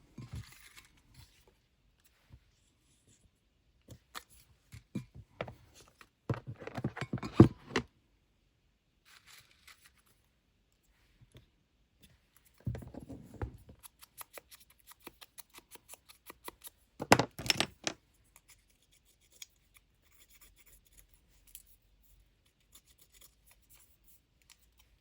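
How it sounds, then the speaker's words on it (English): Scissors cutting Halloween ephemera from clothes tags, heard as sparse close snips and paper rustles in several short busy bursts, with long quiet gaps between them. "cut out some more ephemera."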